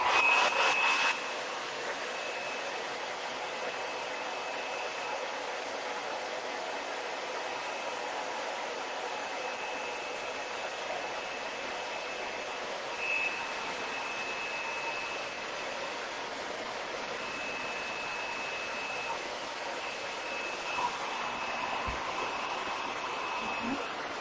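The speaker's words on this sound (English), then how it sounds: "Now I'm going to hit it with a hairdryer real quick." A hair dryer blows over freshly painted furniture in a steady, even rush of air throughout, with a faint high whine over the hiss and no talking.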